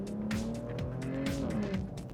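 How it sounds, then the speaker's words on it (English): A 2017 Maserati Levante SUV's Italian V6 engine revs hard through its exhaust with flaps open, rising and falling with gear changes, loud and close with a throaty growl. "it is an Italian V6, and that means it sounds fantastic."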